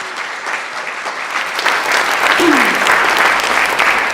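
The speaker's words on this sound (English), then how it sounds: "Let's have applause for them." Steady audience applause fills a hall at the ISCN 2014 sustainable campus excellence award ceremony, a dense crowd clapping that swells slightly and holds on without pause.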